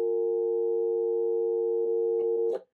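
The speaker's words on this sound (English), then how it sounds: "the sketch generates the dial tone" A landline phone's dial tone generated by a microcontroller sketch through an SLIC module: a steady, continuous hum that runs unbroken, with a few faint clicks near the end just before it cuts off.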